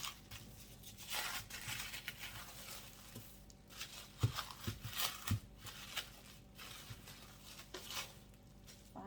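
Crinkling and tearing of a wrapper as a package of kringle dough is unwrapped in a kitchen, a continuous, uneven rustle with sharper crackles, close and fairly quiet, with no talk.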